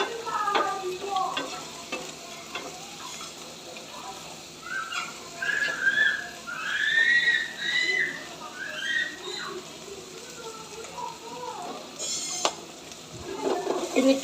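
Shrimp and radish frying with salt and turmeric while being stirred, a steady sizzle with intermittent spatula scrapes, overlaid midway by thin whistling squeals from the hot pan.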